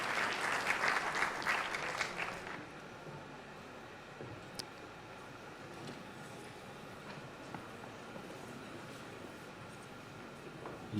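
Sustained applause for President Sergio Mattarella rings loudly through a hall for about two seconds, then drops to a quiet room murmur with a few faint scattered claps.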